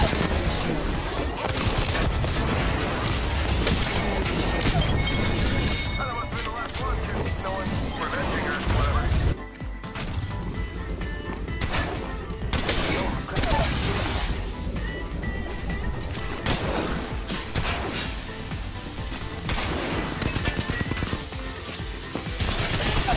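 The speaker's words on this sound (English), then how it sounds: "Something about grenades landing in Apex is just awesome." Dense, continuous battle din in the Apex Legends shooter, grenades landing and blasting amid rapid gunfire and crashes, loud throughout with hardly any pause, and game voices mixed underneath.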